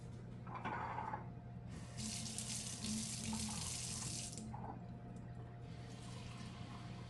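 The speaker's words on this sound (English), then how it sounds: "we're going to need to add 3/4 of a cup of warm water." A kitchen tap runs warm water for no-yeast bread dough, the stream gushing in two bursts with a brief pause between, close and fairly quiet against the room's hum.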